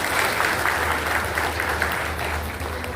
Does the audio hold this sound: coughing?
no